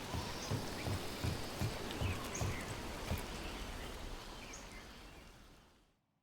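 Rain falls in the fantasy video game Dragon Age: The Veilguard as a steady, dense hiss at moderate level, with faint soft thuds underneath, before fading out at the end.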